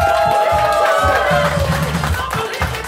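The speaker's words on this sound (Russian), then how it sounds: "Ваши аплодисменты" A lively crowd claps and cheers loudly, a steady wash of applause with shouts and voices mixed throughout.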